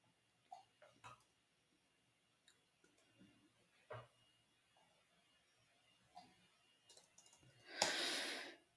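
Sparse keystrokes on a computer keyboard while code is being written, isolated quiet clicks spaced irregularly through near silence, ending with a louder burst of rustling noise.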